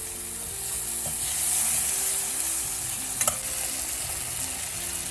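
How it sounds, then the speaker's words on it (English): Chopped tomatoes cooking down in a pan for an Indian-style masala quinoa pulao, giving a steady soft sizzle with a few brief stirring scrapes, all under quiet background music. "Cook the tomatoes up till they kind of mushy."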